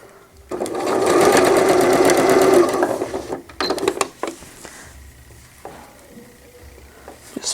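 Sewing machine running a straight stitch along a folded fabric hem for a newborn gown: a loud, steady mechanical whir for about two seconds, then it slows and stops, followed by faint handling clicks and quiet fabric rustle.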